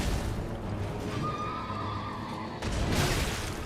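A horse neighs in the video game Elden Ring, a whinny heard amid dense game combat noise and hoof clatter, with a louder burst of action near the end.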